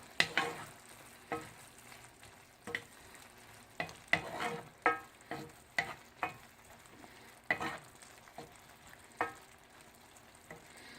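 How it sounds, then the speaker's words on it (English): Mushrooms sizzle in a frying pan while a spoon scrapes and stirs them in irregular, clattering strokes over a soft, steady frying hiss, fairly quiet and close, with no voices. "And we keep stirring the mushroom."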